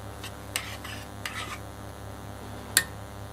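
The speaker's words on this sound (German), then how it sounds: "Einmal kurz umrühren." A spoon stirs rice and corn in a pot, giving a few brief scraping and clinking strokes against the metal over a quiet background hum, ending with one sharper clink.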